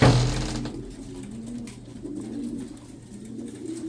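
Young racing pigeons coo in a loft, low soft rolling calls repeating close by in a quiet space after a brief louder rustle at the start.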